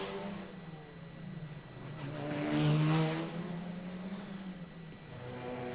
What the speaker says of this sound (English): The cars sweeping around Donna Maria, heading up towards the Melco hairpin.